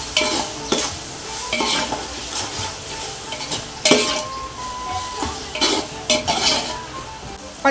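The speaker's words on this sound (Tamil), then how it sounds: "பச்சை ஸ்மெல் போகிற வரைக்கும் வதக்கிக்கலாம் நல்லா." Ginger garlic paste sautés for a restaurant-style mutton biryani, 200 grams ginger and 140 grams garlic, with a constant sizzle broken by repeated metal spoon scrapes and clinks against the pan, close and fairly loud.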